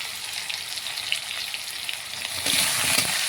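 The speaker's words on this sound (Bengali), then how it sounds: "তেজপাতা দিয়ে ভালো করে একটু ভেজে দিয়ে দেবো।" Bay leaves frying in oil for a rohu fish curry make a continuous crackling sizzle, close and steady, swelling noticeably louder in the final second with a few stirring knocks. No voices.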